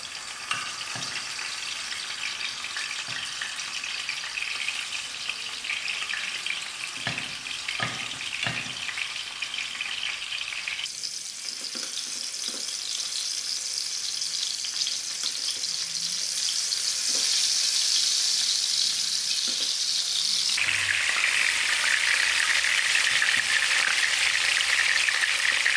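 Oil heats in a pan for fish biryani with baby hake, giving a steady, dense sizzle and crackle. It swells louder and brighter partway through, with scattered pops and stirring clatter, and no talk.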